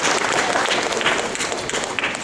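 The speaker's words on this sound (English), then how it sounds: "So a big round of applause to them coming up with this." Audience applause at a community Ugadi celebration, a continuous dense wash of many hands clapping, steady and fairly loud for the whole stretch.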